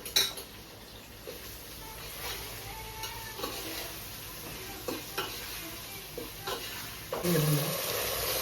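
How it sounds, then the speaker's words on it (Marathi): Onion frying in a pan, a soft steady sizzle with scattered scrapes and clinks of a utensil against the pan, heard close with no talking. "कांदा भाजून घेतो."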